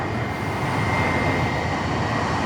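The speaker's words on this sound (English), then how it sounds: "how beautiful and very noisy this plane is" A Jetstar Airbus A320 airliner taking off, its engines giving a loud, continuous roar that swells slightly, heard from a spotting position nearby with no talk.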